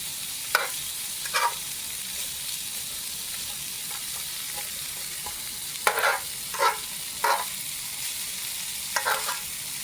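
Chicken and shrimp fried rice with eggs and vegetables sizzles steadily in a pan, a constant hiss broken by a handful of spatula scrapes and tosses, close and moderately loud.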